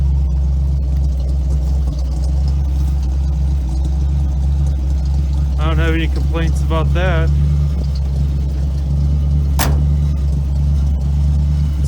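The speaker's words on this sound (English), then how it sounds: "The choke's on, so it's at a high idle right now" A 1969 Ford F100 engine runs at a steady high idle with the choke on just after its first start, a constant close rumble that continues under a man's brief speech.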